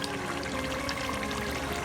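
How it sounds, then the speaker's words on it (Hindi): Water poured into a cooking pot of chicken haleem, a continuous splashing gush with no talk, steady and fairly loud throughout. "इसमें पानी डाल के इसे 40 से 45 मिनट पकाएंगे"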